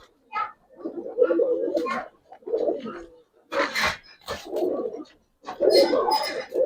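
Giribaz and coloring pigeons coo in short, repeated bursts at close range, mixed with people talking nearby.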